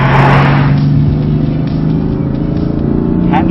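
A BMW M3 or M4 cruising steadily on a countryside road, its engine giving a constant, loud low drone with road and wind noise throughout, no speech over it.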